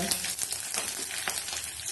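Sliced onion and green chili frying in hot oil with tempering seeds give a bright, continuous sizzle and crackle, close and steady, with light stirring scrapes.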